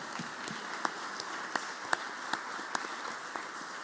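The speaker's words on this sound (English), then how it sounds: "Let's give them a round of applause." Applause fills the Mississippi Senate chamber, a dense wash of many hands clapping at moderate distance, with a few sharper claps standing out over the steady patter.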